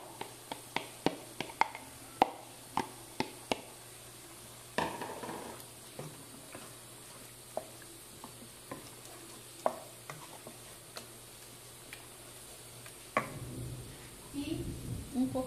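Sauce goes into a hot pan on a home stove and sizzles softly, with sharp clicks and stirring taps throughout and a louder burst of frying near the end.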